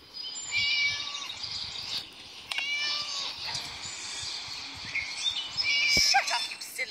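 Game cat from Scary Teacher 3D meowing repeatedly, a string of high, insistent cries over a low in-game background bed, with a louder sharp meow near the end.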